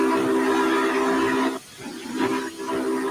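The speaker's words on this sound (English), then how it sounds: "And you hear a loud 3-chime whistle." A loud three-chime train whistle from Train Sim World 2021 blows in a long sustained blast with a hissing edge, cuts off, then sounds again in shorter bursts.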